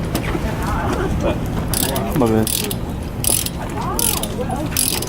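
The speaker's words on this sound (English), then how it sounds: "This is called a torque wrench, but it's basically a giant socket wrench, right?" A large socket-style torque wrench clicking on a car wheel's lug nuts during a brake pad change, with bursts of rapid ratcheting clicks between someone talking nearby.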